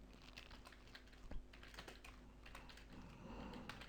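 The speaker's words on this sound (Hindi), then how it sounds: "अभी मैं आपके सामने टाइप कर देता हूँ।" Fast, continuous clicking of a computer keyboard typing text in a quiet room, close and fairly soft, with irregular rapid keystrokes and no talk.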